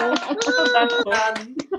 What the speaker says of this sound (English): Can everyone come off mute to give Paul a round of applause, please?